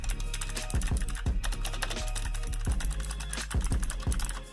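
Keys clatter on a K10 gaming mechanical keyboard with blue switches, a steady close run of crisp clicky strokes with a few heavier thumps mixed in, and no voices.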